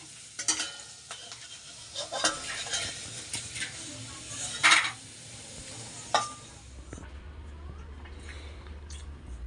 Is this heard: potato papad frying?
yes